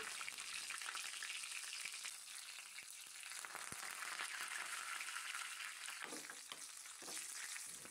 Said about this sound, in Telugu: స్టవ్ పై చిన్న కడాయి పెట్టుకొని ఆయిల్ వేసుకొని వేడయ్యాక కొంచెం ఆవాలు, జీలకర్ర, అలాగే 4 ఎండుమిర్చి ముక్కలు వేసుకొని